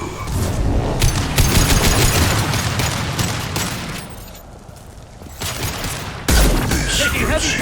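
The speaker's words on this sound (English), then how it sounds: "Taking heavy fire!" Heavy gunfire in Mass Effect 2 rattles in dense, loud bursts of shots and booms, briefly easing before resuming, with voices mixed into the battle.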